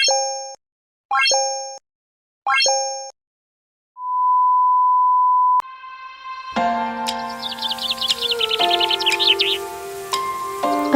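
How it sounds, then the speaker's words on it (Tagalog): Three short synthetic chirps and a steady beep tone give way to bright, warbling birdsong over a low hum, loud and continuous. "Ang mga huni ng ibon ay umaayon sa araw."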